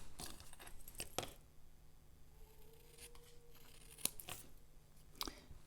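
Scissors trim a sheet of designer series paper for a handmade card, giving a few crisp, close snips spread across a quiet tabletop scene with no speech.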